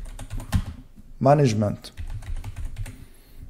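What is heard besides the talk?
typing on a computer keyboard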